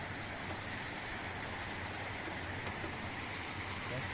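Steady rushing of flowing water, dense and even throughout, with no distinct breaks.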